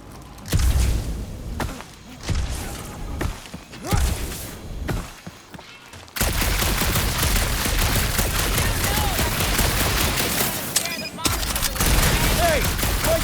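Gunfire in the Marvel's Guardians of the Galaxy video game, bursts of rapid shots and thuds in the first six seconds, then a dense, loud continuous barrage of blasts and crackles, with voices briefly heard.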